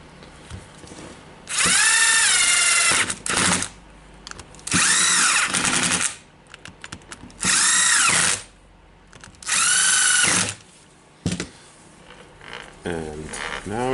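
Power drill driving four screws into a Bosch GWS 13-125 CIE angle grinder under repair, heard as four loud, sustained whirring bursts with a rising pitch, separated by short pauses and small handling clicks.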